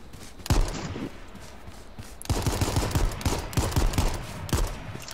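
Gunfire in the H1Z1 battle royale video game, bursts of sharp repeated shots, with a brief opening volley, a pause, then a longer run of rapid reports.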